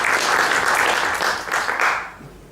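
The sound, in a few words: audience applause for conference speaker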